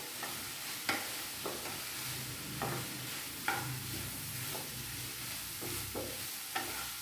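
Mixed vegetable thoran with grated coconut being stirred and mixed in a pan, a soft continuous sizzle punctuated by a spoon scraping and knocking every second or so, close and unaccompanied by speech.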